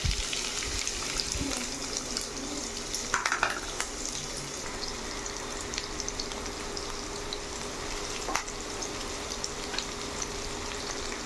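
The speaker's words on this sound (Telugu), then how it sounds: "ఇందులో 2 స్పూన్స్ ఆయిల్ వేడెక్కిన తర్వాత కట్ చేసుకున్న ఆనియన్స్," Chopped onions frying in two spoons of hot oil for a spicy bitter gourd spice powder, a steady close sizzle with occasional stirring clinks and pops, no talking.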